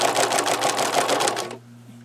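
A sewing machine stitching a denim notebook cover, a fast even rhythmic needle clatter running close and loud for about a second and a half before stopping to a low motor hum.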